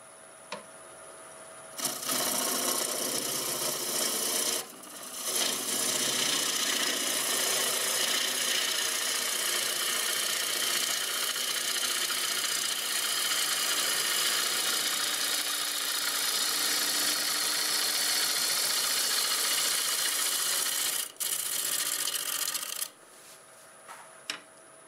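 Wood lathe spinning a bowl at about 890 RPM, a steady continuous whir with rubbing texture that runs loud and unbroken for roughly twenty seconds, with brief pauses near the start and end.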